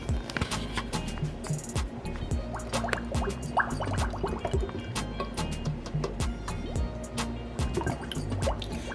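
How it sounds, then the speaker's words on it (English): Olive oil trickling through a funnel into a bottle, heard as a close, continuous run of small drips and liquid gurgles with a busy, uneven rhythm and no talking. "So I'm going to pour my olive oil up to half of the bottle."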